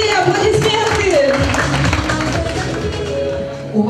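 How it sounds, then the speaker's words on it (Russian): Applause at a wedding, a dense patter of clapping hands from guests mixed with loud voices and festive music throughout. "Аплодисменты!"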